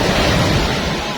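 Big sea waves surge at a rocky coast in Bohol, a loud, dense, unbroken roar of crashing surf close to the microphone, with no voices over it.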